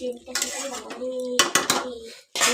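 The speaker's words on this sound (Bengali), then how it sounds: "থালা বাসনগুলো সব ধুয়ে ধুয়ে" Steel dishes, pots and utensils clatter and clank while being washed at a home sink, with irregular close metallic knocks, brief splashes and a few pauses.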